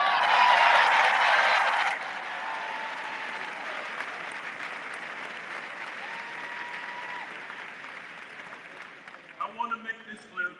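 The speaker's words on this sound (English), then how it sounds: "I'm gonna turn around and clap for them" Applause for newly elected Chicago alderpersons at a mayoral inauguration ceremony, a loud burst of clapping for about two seconds that drops to a softer sustained patter and dies down, with a few scattered claps near the end.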